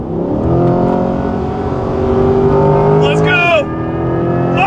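A 2024 Chevrolet Corvette E-Ray hybrid with all-wheel drive accelerates hard, its steady engine drone joined by a rising, supercharger-like whine near the end, heard from inside the car.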